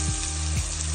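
Butter melting in a pan for spaghetti sauce, a brief close hiss of frying with a faint hum underneath, no speech.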